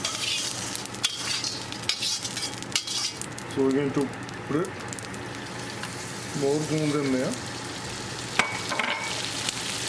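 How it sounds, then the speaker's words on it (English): Atta dough for panjiri fries in hot oil with a constant sizzling, bubbling crackle, with occasional clinks of utensils and a person speaking over it. "they start frying up and start bubbling up real fast"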